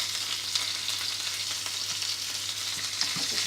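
Duck frying in a pan, seasoned with garlic on top, giving a dense, steady sizzle and crackle with scattered small pops, fairly close and continuous, with no talking.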